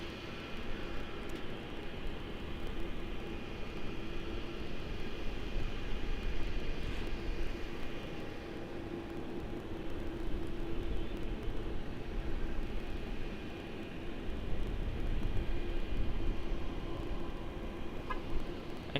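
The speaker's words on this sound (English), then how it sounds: "This Jetstar A320 from Avalon's trying to steal the show." A Jetstar Airbus A320 from Avalon at Sydney Airport at night, heard as a sustained broadband jet roar with a faint steady whine that swells slightly late on, distant and unbroken, with no voices.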